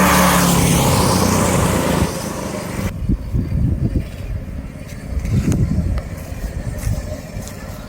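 Motovox mini bike with a swapped small engine and no suspension, ridden hard: a loud, close engine roar for the first few seconds, then an uneven, fainter engine drone with surging bursts as it moves away and returns.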